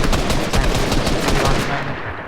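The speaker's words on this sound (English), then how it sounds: "I'm just aiming, trying to shoot the tree down to get basically to get rid of his ammo" Rapid gunfire in Fortnite as a player fires repeatedly at a tree, a dense, loud burst of shots running continuously for a couple of seconds before breaking off at the end.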